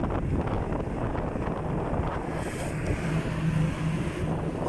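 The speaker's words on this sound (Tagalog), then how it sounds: "malaki ang alon dito." Aboard a ship on the Indian Ocean, heavy waves wash and churn under steady wind rushing past the microphone, a continuous broad roar with a faint low engine drone beneath.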